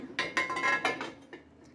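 Pots and pans being scrubbed and handled in a home kitchen, a few sharp metallic clanks and scraping bursts close by, then quieter rattles, no talking.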